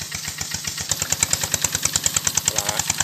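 A fuel engine drives a pump draining a roadside fish pond, running in a steady close chugging rhythm of regular pulses, with splashing water coming in over the second half.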